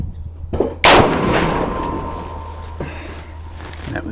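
A single sharp, loud report from an Armalite AR-10 rifle in .308 fires at an outdoor range, followed by a ringing decay and a few faint clinks and small movements.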